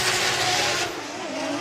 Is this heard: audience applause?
no